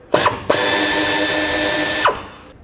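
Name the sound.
ratchet with 10mm socket removing oil dipstick tube bolt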